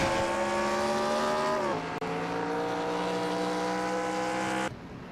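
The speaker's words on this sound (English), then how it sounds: "And Kev Shearer riding down pit road, 35 miles an hour down pit road here." A race truck in a racing video game rolling down pit road at 35 mph in a truck series race, a loud steady engine drone that drops in pitch partway through and then cuts off abruptly near the end.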